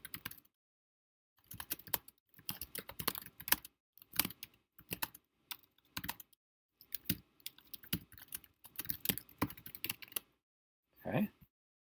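A computer keyboard clicks in quick runs of keystrokes, close and moderately quiet, broken by brief pauses and ending in a short final burst.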